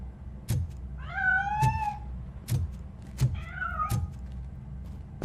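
A cat in a video game gives two drawn-out meows, alone, over a low steady hum with sharp thuds or clicks at a regular beat.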